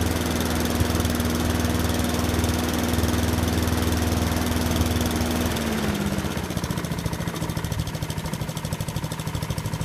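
A Honda-engined Mountfield 21-inch cut lawn mower runs steadily nearby just after a choke start, a loud continuous engine drone that dips in pitch partway through as it settles toward a smoother idle.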